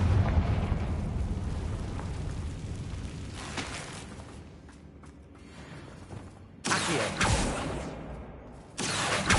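Confringo blasting spell explosions in Hogwarts Legacy, with loud booming bursts and a rumbling blast, then another sharp explosive burst and a third near the end, with no talk.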